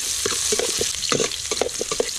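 Chopped onion sizzling loudly in hot oil in a pan as it is stir-fried, dense crackle broken by repeated scraping strokes of a utensil, close and continuous with no talking.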